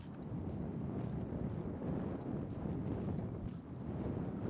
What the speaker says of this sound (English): it is really windy down here, and I'm sure audio's going to suck